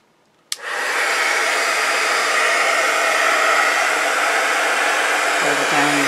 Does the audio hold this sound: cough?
no